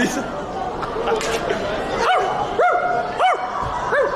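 Human voices imitate dogs, letting out a string of short, loud barks and yips close to the listener, with lively chatter around them.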